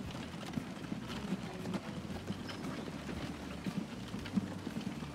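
Horse hooves clip-clop quickly and steadily in the railway-building game Transport Fever 2, a faint, busy patter over a continuous low ambient rumble.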